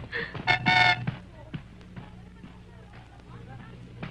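A short car horn toot near the start, a couple of quick blasts, followed by quieter background noise and faint voices.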